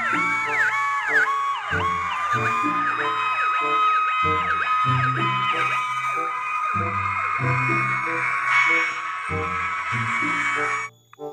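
A toy fire truck's electronic siren wails in a repeating rising-and-falling pattern for about eleven seconds, loud and close with a tinny, steady tone, stopping abruptly at the end.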